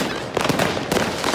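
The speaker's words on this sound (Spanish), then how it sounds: "que dejen de lanzar tantas pirotecnias" Fireworks and firecrackers burst on a New Year's night in Hamburg, two sharp crackling blasts standing out over a continuous dense roar of distant explosions.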